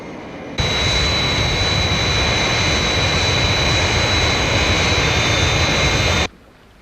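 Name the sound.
Fireflash aircraft taking off, from Thunderbirds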